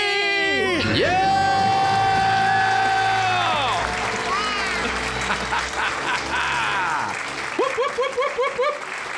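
A studio audience cheers, whoops and applauds loudly right after a family shouts a debt-free scream, with sustained crowd noise and clapping filling the clip to the end.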